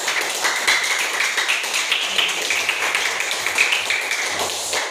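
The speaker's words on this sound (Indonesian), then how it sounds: "Sekarang tepuk tangan." A class of students clapping their hands together during a physical education lesson on volleyball passing, a dense continuous patter of many claps lasting several seconds at moderate loudness, no talk.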